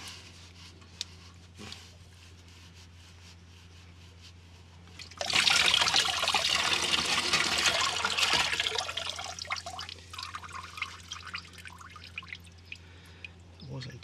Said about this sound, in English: there's definitely going to be a splash of coolant we want to catch